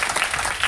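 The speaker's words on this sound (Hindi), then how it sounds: "ताली होना चाहिए इसके लिए।" Audience clapping at a meeting in a Patna branch, a brief, dense burst of applause from a crowd, close and fairly loud.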